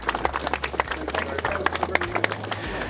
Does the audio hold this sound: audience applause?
yes